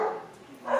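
A dog gives a short, muffled bark or yip, close by and brief, in a quiet indoor setting.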